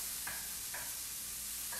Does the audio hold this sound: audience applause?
no